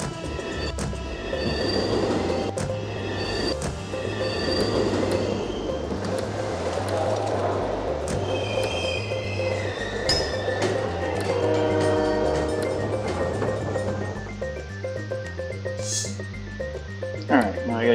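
Subway trains in the video game SimCity 3000 clatter and squeal on their rails, with whining metallic screeches and a brief horn-like tone over a pulsing, looping low backing.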